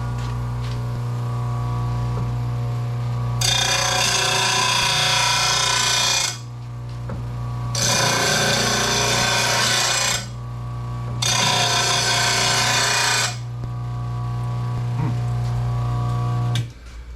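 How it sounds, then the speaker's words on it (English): An RBG 712 sharpener grinding a lawn mower blade gives three loud, broad bursts of abrasive rubbing, each several seconds long, separated by short pauses over a steady low hum. "I'm guessing you just put it in here and rub it along."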